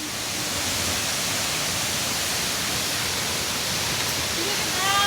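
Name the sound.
Tomari Falls waterfall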